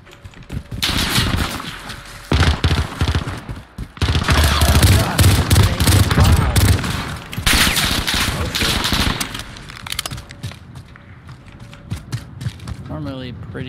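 Repeated pistol shots and rattling gunfire in Call of Duty Warzone come in several loud, dense bursts separated by short lulls, with a voice talking over parts of the action.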